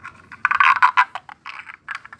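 A handheld frog-call noisemaker, a string rubbed with a rosin-coated stick, gives a rapid rasping, croaking rattle in quick bursts, close and fairly loud, imitating a green paddy-field frog.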